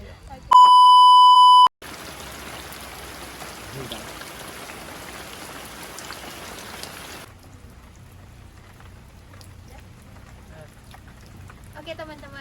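Rain falls outdoors in a pine forest, a steady soft hiss of drops that drops to a quieter patter partway through, preceded by a loud electronic beep at the start.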